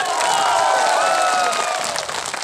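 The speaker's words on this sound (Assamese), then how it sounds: "আৰে যদি পাৰে হাত চাপৰি এবাৰ মাৰক।" A rally crowd claps and cheers together, a dense, steady wash of hands and voices that stays loud throughout and eases slightly toward the end.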